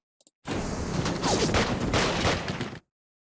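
Units open fire in the Hex of Steel strategy war game, a dense burst of rattling gunfire and rumbling blasts that lasts about two seconds, loud and alone, cutting off abruptly into silence.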